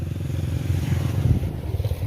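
A motorcycle running close by in a rural village, its engine giving a steady low rumble that holds throughout with slight fluctuations and no talk over it.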